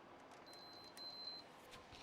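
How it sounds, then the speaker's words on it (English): A vintage game console gives faint electronic beeps when powered on, short thin tones over quiet room hiss, with no voices present. "so it just triple beeps at me"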